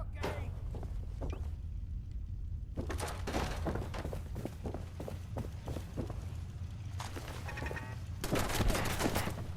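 Repeated gunshots and scattered weapon fire in Fallout 4 on PS5 during a Minutemen fight, sharp cracks in irregular bursts over steady low background rumble, with a denser volley near the end.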